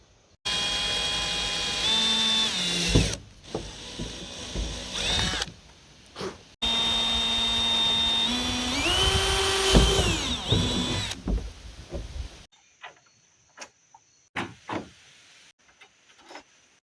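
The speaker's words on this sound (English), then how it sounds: "So I'll drill that hole now." A power drill whines loudly in two long bursts, pitch rising and falling as it bites into a golf cart roof, followed by a few short clicks and knocks.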